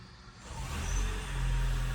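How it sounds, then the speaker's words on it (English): A Toyota engine, set in service mode during a major service, turns over and catches, then settles into a steady low idle rumble that swells slightly and holds, close and alone with no talk. "Then you go start the car."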